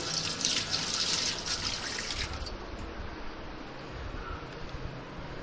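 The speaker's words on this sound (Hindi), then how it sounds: "एक चम्मच भी ले लेती हूँ जो कि मैं वॉश कर लूँगी" Running tap water splashes loudly as a spoon is washed at a kitchen sink, with a bright, hissing spray in the first half that settles into a steadier, softer flow and trickle.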